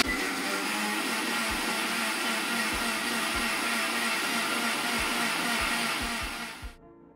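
A mixer grinder whirs loudly and steadily as it blends condensed milk and jelly in its jar, the motor running continuously before cutting off abruptly near the end.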